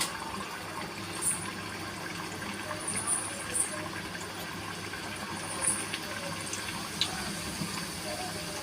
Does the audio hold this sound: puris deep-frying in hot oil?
yes